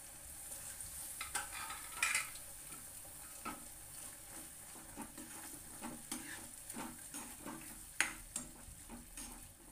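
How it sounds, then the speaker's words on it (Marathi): A spoon scrapes and stirs a spice mixture of onion and coconut in a pan, with repeated soft scraping strokes and a faint sizzle, close up and fairly quiet. "आता हे याच्यामध्ये ना मिक्स करायचं आहे."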